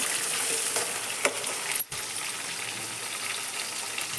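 Curry leaves and coriander fry in a pan with a soft, steady crackle at moderate distance, with a brief dropout partway through and no talk.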